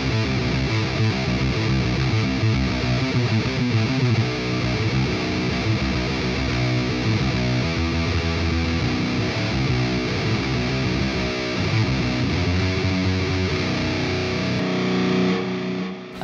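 Heavily distorted HM2-style electric guitar tone through an STL Tones Lasse Lammert amp plugin, dense, loud and continuous riffing with thick low-end chugs, played alone without voices for the full length.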